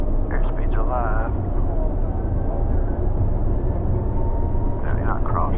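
A Cessna Citation M2 jet takes off at full power, its steady loud engine roar heard from inside the cockpit under brief crew voices.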